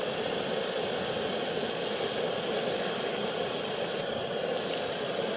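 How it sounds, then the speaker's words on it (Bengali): Mango-flavoured luchi, a Bengali puffed flatbread, frying one by one in a pan of hot oil, giving a steady, loud, unbroken hiss and sizzle throughout. "এভাবে আমি এক এক করে প্রত্যেকটা লুচি তেলে ছেড়ে দিচ্ছি"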